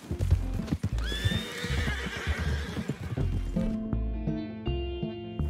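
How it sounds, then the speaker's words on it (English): Horse hooves clip-clop steadily in Red Dead Redemption 2 while a horse neighs and whinnies loudly near the start, then a bright musical score rises over the hoofbeats toward the end. "Wait a second, what kind of horse is this?"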